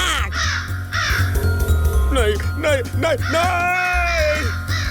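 A black crow caws several times in harsh, rising calls, close and loud, as a person speaks briefly.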